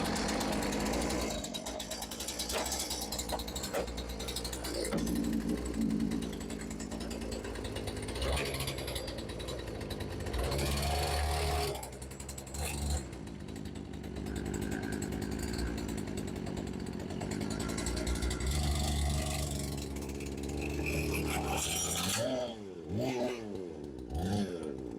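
A chainsaw engine drives a Power Wheels ride-on toy through a 3D printed gearbox, roaring loud and close with a steady buzzing drone and surging revs, then cutting out near the end as voices come in.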